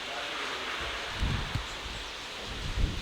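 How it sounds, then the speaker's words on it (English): Rain falls steadily outdoors in Curacao, a broad even hiss of drops with a few soft low thumps and rustles along the way, with no one speaking. "It's raining, guys."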